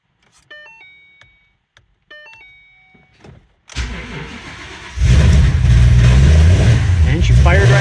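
A Foose-built Ford GT500 is heard after a few bright electronic chime tones: the starter cranks briefly, then the engine fires and settles into a loud, steady, close-up rumbling idle.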